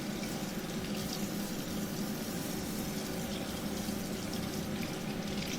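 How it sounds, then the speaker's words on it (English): Tap water runs steadily into a sink while a drain part from a Miele washing machine is rinsed, producing a continuous close rushing splash with no pauses. "Just running water down through there."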